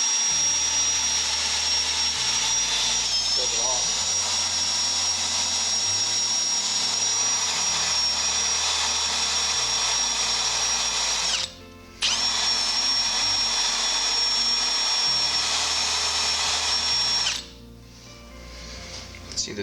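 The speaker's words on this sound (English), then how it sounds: "I usually just grab the wire wheel and" A wire wheel spun by a drill whirs loudly against a corroded clutch helix on a Yamaha Phazer secondary clutch, running in long sustained bursts with a brief pause near the middle before winding down.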